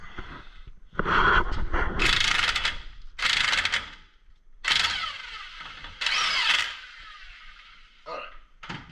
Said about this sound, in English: Now we're gonna take this nut out, which is, I think it's 21.